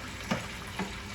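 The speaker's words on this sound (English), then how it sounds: "Water going in." Water pours into a cooking pot for Jamaican oxtails with a steady rushing hiss, broken by two brief splashy bursts.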